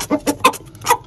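A few short clucks from a white Aseel rooster, close by, coming in quick separate bursts.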